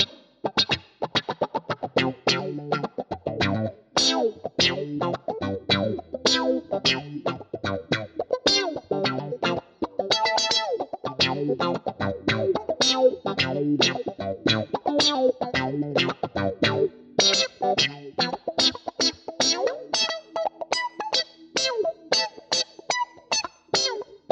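Rhythmic, choppy electric guitar through a Boss GT-1000 Core auto-wah filter, giving each plucked note a quacky, funky wah character, played alone for a long stretch.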